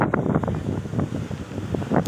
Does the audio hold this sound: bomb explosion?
no